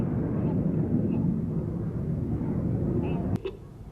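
Red Arrows display jets roll at an airshow, and their distant roar holds steady under a commentator's voice. It cuts off sharply near the end.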